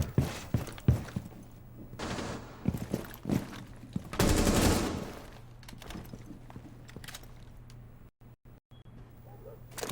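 Gunfire in a competitive shooter game, several quick bursts of sharp shots early on, a dense louder volley in the middle, then quieter movement sounds and a few short dropouts.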